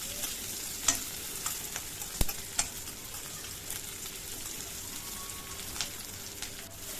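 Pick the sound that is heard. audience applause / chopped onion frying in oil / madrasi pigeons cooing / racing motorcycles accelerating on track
chopped onion frying in oil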